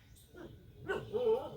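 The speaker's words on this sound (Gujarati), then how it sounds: "મારું બેટું કૂતરો રહ્યો પાડે છે" A dog barks a couple of short, sharp times nearby in a rural Gujarati setting, the yips rising over a faint background with a voice briefly present.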